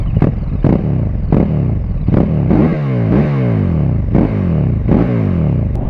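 A KTM 1290 motorcycle with an Akrapovic slip-on exhaust revs hard again and again, each sharp throttle blip rising and falling in a steady pulsing rhythm, loud and close with no talk.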